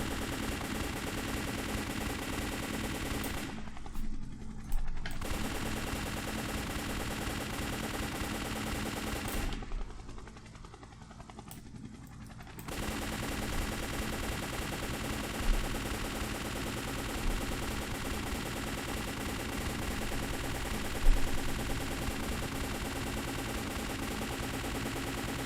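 Helicopter in an Unreal Engine video game firing projectiles: continuous dense rapid-fire shooting that fills nearly the whole span, broken by two brief pauses, loud and close with no talk.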